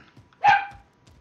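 One short, sharp dog bark sounds at moderate distance in a quiet indoor room, loud against faint background noise.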